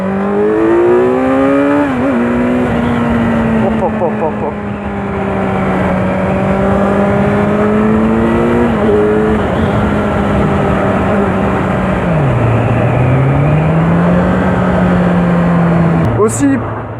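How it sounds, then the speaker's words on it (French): A Kawasaki Z900 motorcycle accelerating hard, its engine loud and close, the note climbing through several gear changes with brief dips between them before settling into a steady drone. "Accélération."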